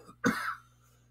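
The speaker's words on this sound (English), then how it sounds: "still coughing" A single short, harsh cough close by, followed by quiet background hum.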